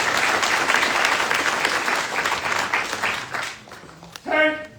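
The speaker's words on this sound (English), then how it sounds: "Please join me in a round of applause for the winning squad of the drill and ceremony competition." Applause for the winning squad of a drill and ceremony competition at a Drill Sergeant Academy graduation, a dense crowd clapping steadily and loudly before thinning out near the end.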